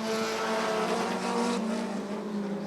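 Race cars roar past together on the final lap at Rockford Speedway, a steady, dense, loud engine drone with shifting pitch and no voices.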